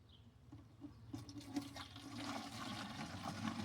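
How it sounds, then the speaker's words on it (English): Water from a bucket pours onto flowers, a quiet, uneven splashing and trickling that grows slightly fuller partway through, with no talking. "So we're gonna water them really quick"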